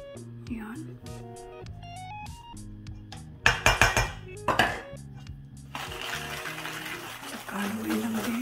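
Oreo cake batter being stirred with a utensil in a bowl, giving a run of sharp clinks and scrapes mid-clip under steady nearby talking.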